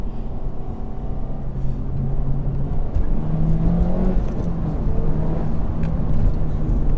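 A Honda Civic Type R FK8 Limited Edition lapping a road course, heard as a steady, moderately loud engine hum with pitch shifting gently as it drives on, no talking.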